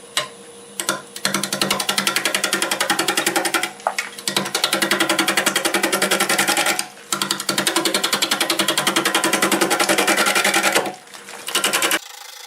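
A wood lathe turns a bowl at about 550 to 650 RPM while a 5/8 bowl gouge cuts. The cutting makes a loud, rapid, even chatter in long bursts, separated by a few short pauses.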